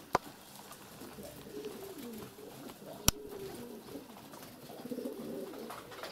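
Pigeons coo in courtship, low rolling calls rising and falling repeatedly at moderate distance, with a couple of sharp clicks and faint background noise.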